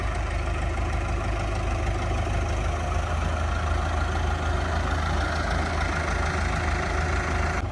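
A tractor engine pulling at full power, a steady low diesel rumble with a faint knocking throb that holds constant and close throughout, with no talk over it.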